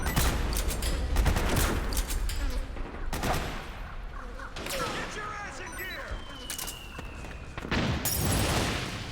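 Repeated gunfire bursts crack out in Metal Gear Solid 4, sharp volleys spaced through the scene amid game effects, while a person talks over the action.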